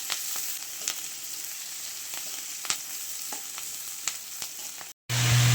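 Garlic and green chilies fry in hot oil in a wok with bay leaf, dried red chili and cumin, giving a steady soft sizzle with scattered crackles and pops, fairly close, before a brief cut to a different sound at the end.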